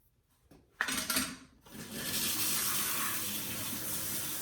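Tap water runs steadily into a salon shampoo bowl while shampoo is rinsed from hair, starting with a few clattering handling sounds before settling into a continuous close splashing hiss.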